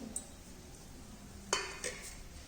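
A spoon stirs rava snack ingredients with finely chopped red chilli in a bowl, giving a few faint clinks and scrapes against a quiet background.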